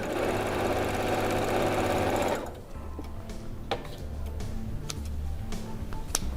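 A sewing machine runs fast and loud stitching the side seams of a bucket hat, a dense steady whir that stops after about two seconds, followed by quiet ticks and fabric handling.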